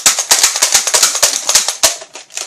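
A toy blaster being slam fired, a rapid string of sharp plastic snaps and clacks close by, about a dozen quick shots in uneven rhythm with no talking.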